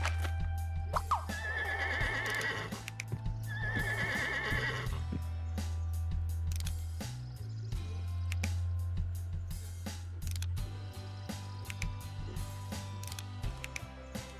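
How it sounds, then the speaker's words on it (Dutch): A thirsty horse in the video game Scribblenauts Unlimited whinnies twice in quick succession, loud and close, with mechanical ratcheting game effects and clicks around it and no talking. "En een dorstig paard."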